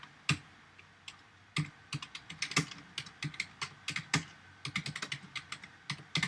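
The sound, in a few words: typing code on a computer keyboard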